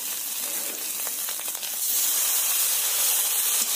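Tomato and ginger paste frying in a pan bursts into a loud, steady sizzle as water is added, the hissing spitting growing stronger and fuller partway through and staying close and continuous.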